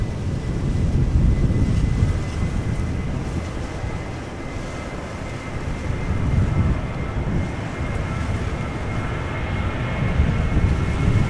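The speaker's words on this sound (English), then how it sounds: "KLM 737-800 to Edinburgh" A KLM Boeing 737-800 departs Amsterdam Schiphol with a deep, rumbling jet roar that swells and eases in waves across the whole stretch, with some wind buffeting and no talk.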